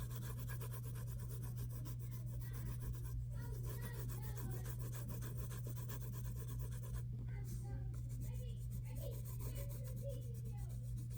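Steady, continuous scratchy rubbing of a pencil on paper, fairly loud and close, running throughout with brief pauses, over a constant low hum and faint background playing sounds.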